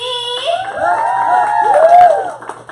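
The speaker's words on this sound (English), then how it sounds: "And again, another applaud for Miss Alicia!" An event audience erupts in loud cheering and whooping, many voices shouting and rising together in a dense crowd roar that swells and holds for a couple of seconds.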